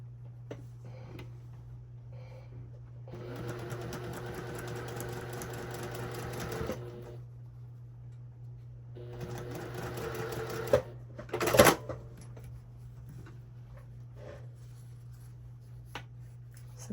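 A sewing machine stitches a quilt block for a mystery quilt pattern in two steady runs of a few seconds each, followed by a brief sharp click or clunk, with no talking.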